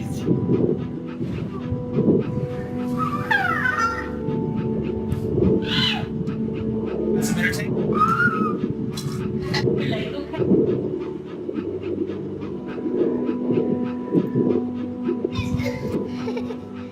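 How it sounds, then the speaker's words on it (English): A puppy in the video game That Dragon, Cancer whimpers and pants in short repeated bursts, while a voice and other talk carry on over it. "It's a real puppy."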